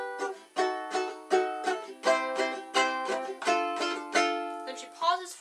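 Ukulele strumming a chord progression for a song, with about ten evenly spaced bright strums that ring out between strokes, played close and alone with no talking.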